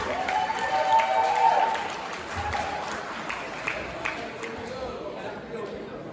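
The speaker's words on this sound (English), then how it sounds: "let's give him another round of applause" An audience applauding at the close of a high school stage hypnosis show, a dense crowd clapping that swells early then fades while a voice talks over it.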